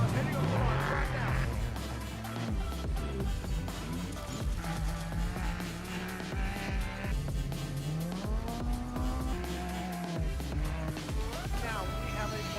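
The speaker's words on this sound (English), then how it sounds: "The first two cars heading off the line right now." Race vehicles leave the start line at the Baja 1000 off-road race, engines revving and roaring continuously and loudly at close range, with overlapping announcer talk throughout.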